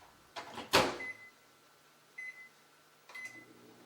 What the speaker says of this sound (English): Place it in the microwave to cook it immediately.